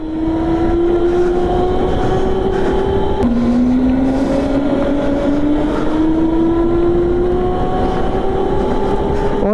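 Go-kart engines at an indoor track in Entertainmentland mall, Gurgaon, whine loudly and close, the pitch climbing steadily, dropping sharply at a gear or throttle change, then rising again, with faint other karts behind.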